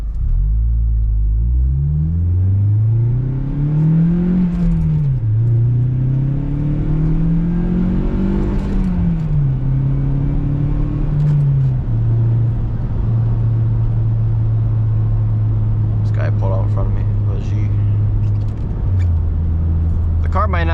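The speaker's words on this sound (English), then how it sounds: "I like the Onaka exhaust. It's a good daily exhaust" An Acura RSX engine with an Onaka exhaust hums steadily with a low, throaty exhaust note that rises and falls gently as it revs, continuous and fairly close.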